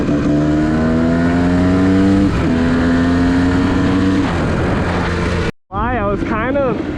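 Engine of a 1998 Kawasaki KDX 220 dirt bike running rich, revving in sustained rising pulls, loud and close, then a sudden cut and a quick burst of sharp revs, with someone talking partly over it.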